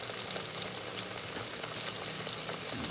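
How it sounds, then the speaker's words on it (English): Slices of green tomato fry in a hot pan with a steady, dense sizzle and crackle that stays close and even for the whole stretch. No voices. "Frying up in there."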